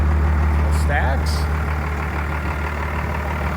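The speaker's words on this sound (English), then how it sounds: "I'm very used to the relatively loud sound of my Ram, my old Ram here." An old Ram diesel pickup with exhaust stacks idles with a steady low rumble, continuous and close, with some brief faint higher sounds over it.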